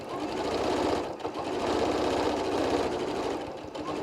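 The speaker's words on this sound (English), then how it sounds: "when we get to the opening that we left, we will just stitch over those stitches" A sewing machine top stitching an adult bib runs in a steady, continuous rapid whir with a brief dip near the middle, close and alone without talk.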